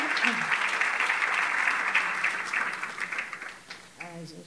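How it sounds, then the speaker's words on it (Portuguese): Audience at a panel session applauding a school, a dense even patter of clapping that is strong at first, then gradually fades, with a voice speaking as the applause dies away. "Eu queria pedir uma salva de palmas para essa escola que está lutando para caramba."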